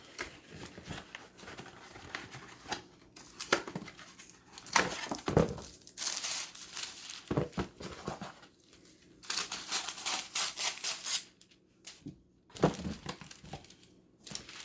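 A sheet of wax paper crinkles and rustles in close, quiet handling, in irregular bursts of crackling separated by brief pauses.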